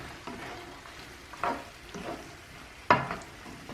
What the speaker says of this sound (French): Je mélange. Par la suite, je vais ajouter les pâtes ou la crème.